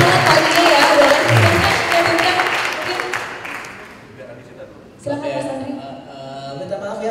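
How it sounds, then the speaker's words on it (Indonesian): Applause from an audience at a creators' community talk event, dense clapping filling the first few seconds before fading, then a voice speaking over faint crowd noise toward the end. "Tepuk tangan buat teman-teman saya yang mau."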